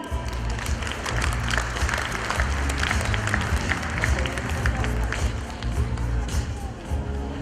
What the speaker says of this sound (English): let us all give a warm round of applause to our first proponent